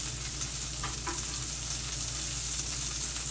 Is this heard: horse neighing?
no